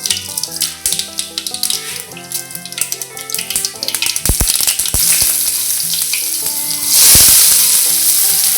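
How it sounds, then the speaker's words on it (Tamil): Mustard seeds sizzle and crackle loudly in hot oil in a pan, with dense popping spatters throughout and a brighter hiss burst near the end; no voices. "கடுகு போட்டுக்கலாம்."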